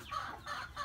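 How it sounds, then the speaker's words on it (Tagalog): Chickens cluck briefly on a backyard farm in the Philippines, a short burst of soft, nasal clucks close by, with faint outdoor background and no talk. "Saka meron tayong maraming manok."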